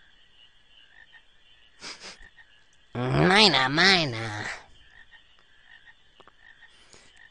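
A frog croaks in the video game Final Fantasy IX: a loud, voiced, wobbling burst lasting about a second and a half near the middle, with brief noises and faint background music around it and a voice speaking.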